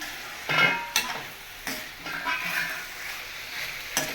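Mutton liver curry with red chilli powder being stirred in a pan, several distinct spoon scrapes and clacks over a low sizzle, close and moderately loud.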